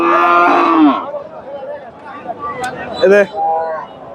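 A cow lets out a loud, deep moo up close at a busy cattle market in Bogura, Bangladesh, followed by quieter lowing and murmuring voices of people nearby.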